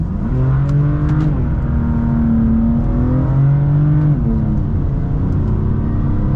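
A 2020 BMW M4 CS engine revs hard and accelerates, its loud exhaust note climbing and falling in several repeated surges, close and continuous with no one talking.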